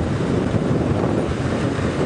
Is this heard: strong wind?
yes